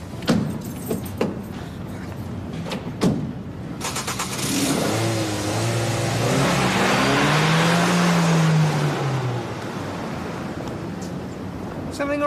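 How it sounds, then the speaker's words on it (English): A car engine starts and revs, then drives off, its steady drone rising and fading over several seconds, with people speaking briefly beforehand on a street in a British soap drama. "I just saw Peter and Carla put him in the car and drive off."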